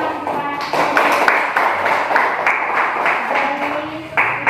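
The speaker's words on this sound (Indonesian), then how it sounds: "Berikan tepuk tangan." Classroom applause from a group of pupils in an Indonesian geography lesson, a steady patter of many hands clapping close by for several seconds with no talk over it.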